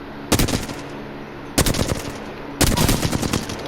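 Flatline rifle firing in the video game Apex Legends: three loud, close bursts of rapid automatic shots with short pauses between them.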